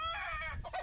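A rooster crows once, loud and close, in a single drawn-out harsh call that breaks near its end, alone with no talk over it.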